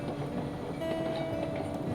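Train rolling along rails in the Railroads Online video game, a steady close rumble of wheels with faint clicks, loud and continuous, no voices.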